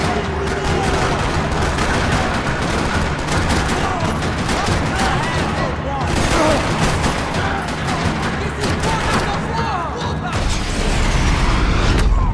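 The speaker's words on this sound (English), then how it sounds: "Another parking lot rattling with gunfire." Sustained gunfire rattles through a parking lot in the Max Payne 3 video game, with dense overlapping shots, crashes and booms, loud and continuous throughout.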